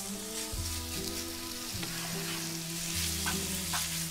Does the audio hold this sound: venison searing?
yes